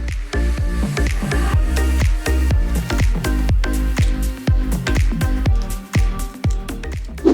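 Raw wild prawns are being cleaned and deshelled by hand, giving a steady run of close, wet squishing and crackling shell snaps with occasional drips, repeating irregularly throughout without any talk.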